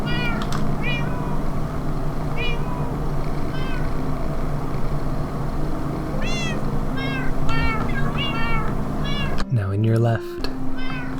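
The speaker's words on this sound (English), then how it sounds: "That cat purrs." Cartoon cats in a video game mewing repeatedly in short rising calls through the clip, with a low purring rumble underneath and a person talking over them.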